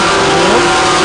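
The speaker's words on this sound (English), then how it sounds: "I have an engine co-commentating with me for this race" A racing car engine revs hard on track at the MRF MMSC FMSCI Indian National Car Racing Championship, one short, loud, rising mid-pitched burst.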